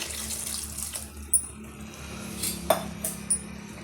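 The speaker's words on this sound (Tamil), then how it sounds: "நான் இன்னும் வந்து ஒரு டம்ளர் அளவுக்கு தண்ணி சேர்த்துக்கிறேன்" Water pours into a pressure cooker holding a banana-flower and potato gravy, a soft, steady trickle at close range with a few light metallic clinks from the pot.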